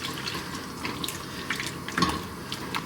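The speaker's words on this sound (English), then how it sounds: "I'm going to add in 1 tin's worth of water" Water poured from a tin into a cooking pot while making a meal, a soft continuous trickle and splash with a few brighter drips, fairly quiet and close.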